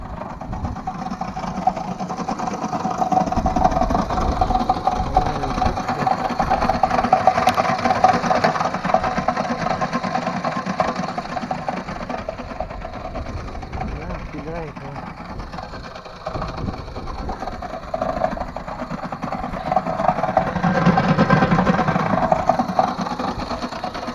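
A homemade tractor built from scrap metal runs in second gear in a garden field, its engine giving a steady, close, mid-pitched drone with slight surges throughout.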